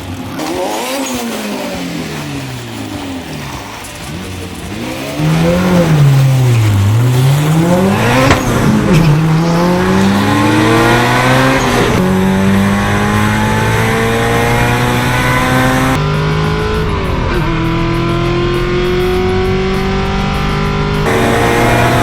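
Drag cars launching easily down a drag strip on a shakedown run, engines revving and climbing through gears in rising and falling sweeps, loud and close with sustained roar throughout.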